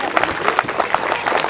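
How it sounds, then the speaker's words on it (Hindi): An audience applauds after a magic trick by magician Rathi Singh, a dense patter of many hands clapping at a steady pace, fairly loud and continuous, with no voices on top. "मुझे लगता है तालियां अब बजनी चाहिए"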